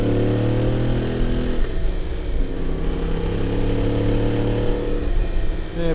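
A CF Moto motorcycle accelerates in third gear along a forest road, its engine droning loud and close. The pitch climbs, drops at a gear change, then pulls up again.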